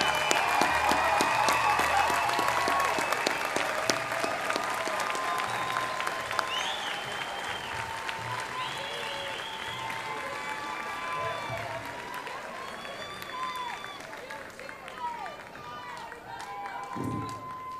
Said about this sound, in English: Join me in applauding the graduates of the School of Professional Studies and Applied Science.